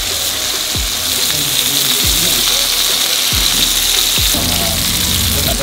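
Loud, steady sizzling of white fish frying in hot oil, a continuous bubbling hiss with occasional soft clinks, no talking.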